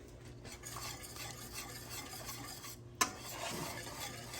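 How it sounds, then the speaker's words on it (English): Homemade Alfredo sauce with Parmesan cheese being whisked in a pan gives a steady scraping, swishing rhythm over a faint simmer, with one sharp clink of the whisk near the end. "Just going to keep whisking until it gets thick and we have homemade Alfredo sauce."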